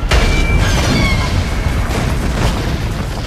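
A bomb detonating in Saints Row The Third, a sudden loud boom followed by a sustained roaring, crackling rumble of debris and fire that stays heavy for several seconds.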